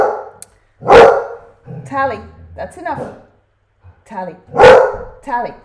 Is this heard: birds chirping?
no